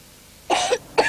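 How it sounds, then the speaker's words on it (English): Two quick, close coughs from a man in a cough mixture radio advert, a harsh first cough followed by a shorter second one after a brief pause. "A nasty cough calls for Vino's cough mixture."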